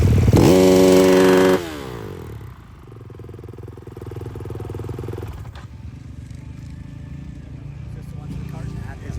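A motocross dirt bike, number 96, fitted with a silencer insert in the race pits, blasts a loud high rev for about a second. It then drops to a steadier, quieter running note under background noise.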